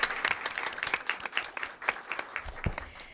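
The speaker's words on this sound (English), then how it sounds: "let's give them a round of applause" A school board meeting audience gives a round of applause, a steady wash of many hands clapping at close range, with a few sharper, louder claps standing out near the end.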